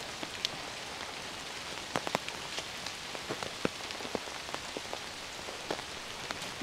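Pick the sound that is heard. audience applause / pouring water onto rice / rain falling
rain falling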